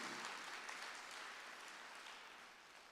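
A church congregation at a Sunday worship service claps together in a dense, even wash of applause that fades slightly over a few seconds, somewhat distant and soft.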